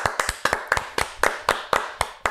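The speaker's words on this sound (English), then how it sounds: "Everyone say happy birthday for Trev, and we got to clap it up." Roughly a dozen sharp, close handclaps ring out at a brisk, slightly uneven pace for a birthday, each clap crisp and loud with no talking over them.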